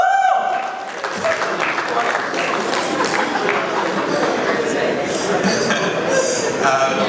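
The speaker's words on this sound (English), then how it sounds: "A round of applause as he makes his way." An audience at a Polaris Bank unveiling event applauds in a dense, sustained wash of clapping with cheering and crowd chatter mixed in, while a voice talks over it.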